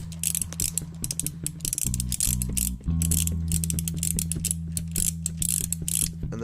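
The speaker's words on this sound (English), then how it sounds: "These nuts here will require a 12mm socket head." Mechanical ratcheting with a 12mm socket, removing nuts during a spark plug change on a 2012 Mazdaspeed 3, giving rapid steady clicking over a low hum, close and fairly loud with brief pauses.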